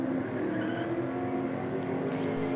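Drag racing car accelerating hard down the strip, wheelspin on the tyres as the driver pedals the throttle and gets back into it; a steady, loud engine roar with strong low harmonics sustained throughout.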